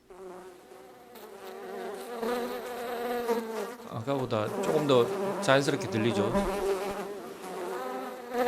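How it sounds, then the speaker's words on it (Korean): Flies buzz in a 3D spatialised sound effect built in Unreal Engine, a continuous whiny drone that swells and wavers as it moves around, with someone talking over it. "옆에 날파리들이 이렇게 잉 거리고 있으면"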